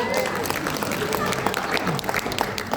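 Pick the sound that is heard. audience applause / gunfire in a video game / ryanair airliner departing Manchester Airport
audience applause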